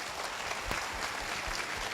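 Audience applause breaks out for the directors at a training session, a steady wash of clapping from a crowd that holds for the whole moment with slight swells.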